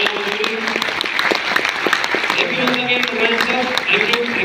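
A crowd claps steadily and warmly throughout while a person talks over the applause.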